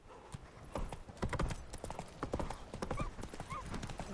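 Horse hooves clip-clop at a brisk trot in The Witcher 3, a steady rhythmic beat heard close, with a couple of faint snorts or whinny-like sounds mixed in.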